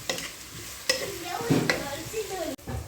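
Spices fry and are stirred in a pan for chicken majboos. A steady sizzle is broken by sharp scrapes and clinks of a spoon against the pan, close by, with a little speech in the background.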